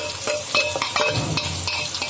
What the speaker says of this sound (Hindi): इसको हम डाल देंगे इसमें प्याज। प्याज को सेपरेट आप भून लें।